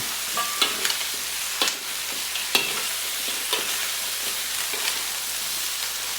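A spoon scrapes and clanks around a pot of tamarind-soured chicken stew, with a steady simmering sizzle beneath and a few sharp knocks against the metal, close and fairly loud.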